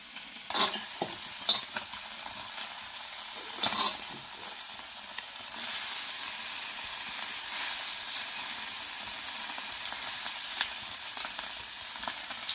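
Small pichlandya river fish frying in hot oil give a continuous hissing sizzle with occasional louder bursts and stirring clatter, close by and steady.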